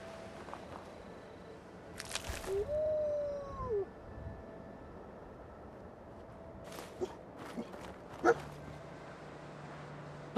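Dogmeat, the companion dog in Fallout 4, gives a few short barks and yips with a brief whimpering whine, scattered over a quiet background hum, moderately close, with no talking.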